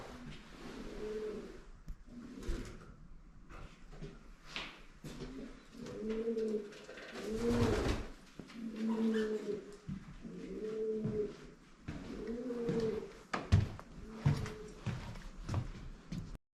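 Pigeons coo repeatedly in soft, rhythmic phrases at close range, with bursts of background noise and rustling between calls, at a farm museum in Switzerland.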